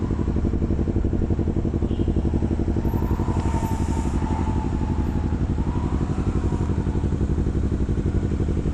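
A sport motorcycle engine running steadily while being ridden in sport plus mode, a loud continuous droning rumble with slight pitch shifts and no talking over it.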